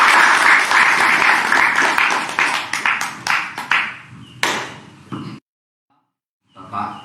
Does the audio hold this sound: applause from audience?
yes